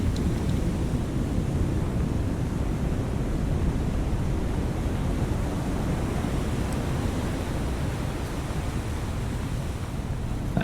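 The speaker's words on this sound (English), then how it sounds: "She's slipping below the waves here." A ship sinks beneath the waves in the naval video game War on the Sea, heard as a steady, loud wash of surf-like noise and rushing water that holds evenly throughout with no talk.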